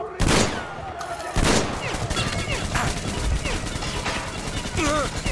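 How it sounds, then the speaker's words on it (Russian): Rapid gunfire from the Metro Exodus video game, loud dense bursts of shots with heavy impacts, sustained through the whole stretch amid chaotic combat noise. "а я тогда сижу и отстреливаюсь"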